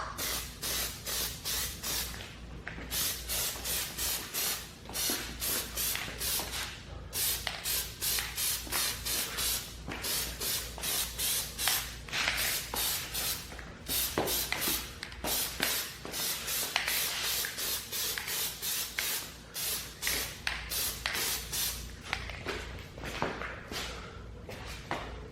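Black Plasti Dip aerosol can spraying onto a car's steering wheel trim, close and loud, in long continuous hissing bursts broken by short pauses.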